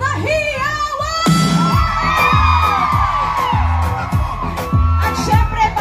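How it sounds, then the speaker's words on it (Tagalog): Loud crowd at an outdoor Philippine Independence Day concert festival in Hong Kong cheering and shouting, with whoops and yells over pounding music beats and a sharp bang near the start. "Sa Hong Kong, isang malakas na hiyawan!"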